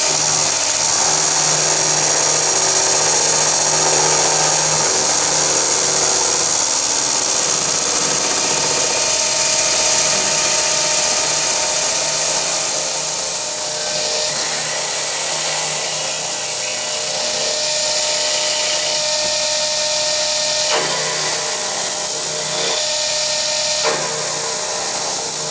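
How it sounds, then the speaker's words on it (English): A skim cut across a cast aluminium bracket for a DIY bandsaw table grinds along as a loud, continuous machining whine, steady for most of the stretch with a few shifts in tone toward the end. "So I'm going to skim this off"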